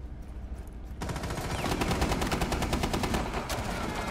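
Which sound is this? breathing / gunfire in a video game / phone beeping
gunfire in a video game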